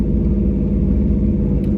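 Race car engine at a speedway launch as the tires spin, a loud steady low rumble throughout, dense and unbroken with no distinct revs.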